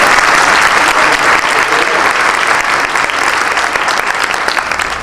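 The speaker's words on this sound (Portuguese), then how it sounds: "Peço uma salva de palmas para o André." An audience at a tax-law conference gives a loud round of applause for a newly introduced university professor, steady and full throughout with no talk over it.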